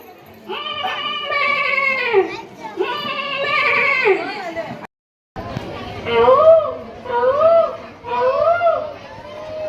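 At a school talent competition, a voice imitates a goat's bleating in several wavering, nasal cries, first in two long drawn-out calls, then after a brief pause in three shorter rising bleats.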